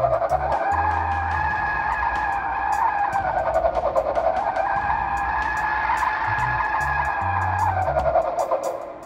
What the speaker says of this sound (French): Maintenant, on vous fait écouter les pneus, très important.